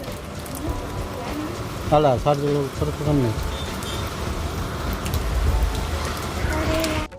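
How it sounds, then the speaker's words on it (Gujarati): Heavy rain pouring down in a village during a thunderstorm, a dense steady hiss throughout, with someone speaking briefly over it. "વીજળીના કડાકા ભડાકા થાય છে અને વરસાદ પણ વધી ગયો છે"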